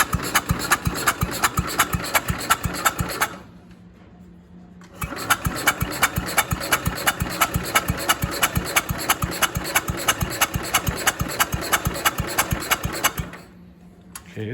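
The engine of a Jacobsen Chief 800 garden tractor, long left sitting outside, runs steadily after being choked, with a rough rapid rattle. It cuts out briefly twice and picks back up, close and loud.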